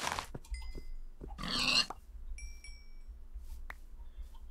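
Pigs in the Life in the Woods game give short grunting oinks among scattered game clicks and chimes, with one louder rushing burst in the middle.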